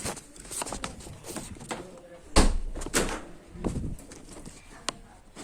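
A door clunks open amid scattered knocks and rustles, with a louder thud partway through; close by, somewhat noisy.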